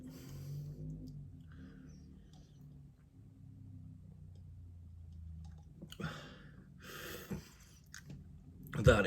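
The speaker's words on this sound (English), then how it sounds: "Let's get a bloody slurp, shall we?" A drinker slurps an IPA craft beer. After a quiet stretch come a few short, wet sipping bursts close to the mic, growing louder toward the end.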